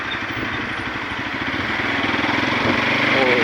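A motorcycle engine idles steadily in a traffic jam on a mountain road, a continuous close rumble with a slightly rough, pulsing texture that grows a little louder toward the end.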